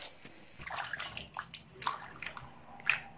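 Tender green beans being rinsed in water in a home kitchen, with soft sloshing and splashing in uneven bursts and a few brighter drips, close and fairly quiet, with no talking.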